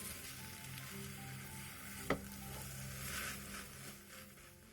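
A rolled egg omelette with seasoned laver fries over medium-low heat with a soft, steady sizzle up close, broken once by a single sharp click of a utensil against the pan.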